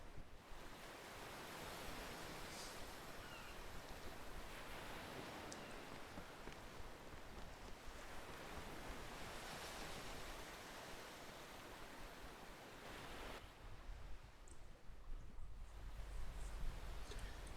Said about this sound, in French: J'entends les vagues.